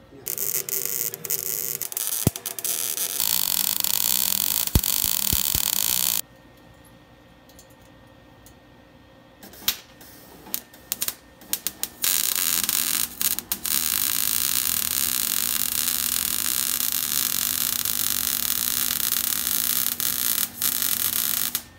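Welding an exhaust pipe on a J32 V6 Civic coupe: harsh, crackling buzz in long bursts, broken by a quiet pause and short stuttering spurts before a sustained run.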